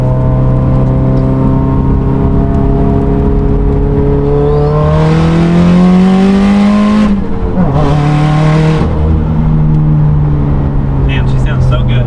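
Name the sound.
turbocharged car engine with external wastegate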